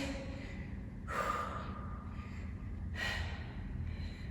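Heavy breathing after a tough full-body workout exercise, with two loud gasping exhales about two seconds apart over a steady background, close to the listener.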